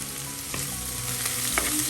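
Curry leaves and green chillies sizzle and fry in hot oil for Kerala-style prawn theeyal, a steady crackling hiss with a couple of brief stirring scrapes, close and alone without any talk.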